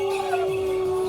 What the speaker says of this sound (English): Are you howling with the music?